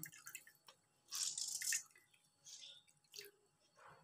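Soft, close drips of whey squeezed from mozzarella cheese curds, with wet squishing. A few short, quiet splashes fall at uneven intervals in an otherwise quiet space.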